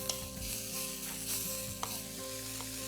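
Two thinly sliced small tomatoes fry with onions in a pan, giving a soft, continuous sizzle and gentle stirring scrapes with occasional light utensil taps, close and fairly quiet, with no talking.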